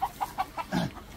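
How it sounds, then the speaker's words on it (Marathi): Hen clucking in a country poultry shed, a run of five or six short evenly spaced clucks followed by a lower, longer call, fairly close and alone. "आणि कोंबडी उठली गेली"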